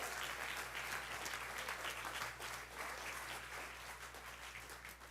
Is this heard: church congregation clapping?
yes